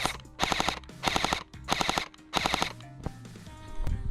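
An airsoft gun powered by a 7.4-volt LiPo battery fires in four short bursts, each a rapid mechanical buzz of gearbox cycling, close and crisp with brief pauses between.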